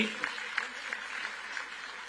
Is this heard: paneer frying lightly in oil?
no